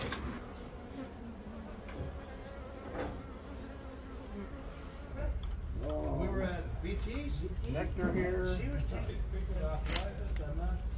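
Bees from a beehive on an apartment balcony buzz continuously at close range, the drone growing fuller partway through while people talk over it.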